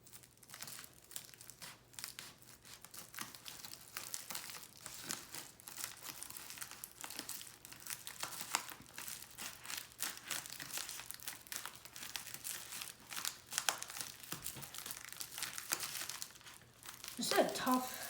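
Cutting open the plastic packaging of an AirPods box: soft, irregular crinkling and crunching of plastic wrap, fairly faint and close, with someone talking over it.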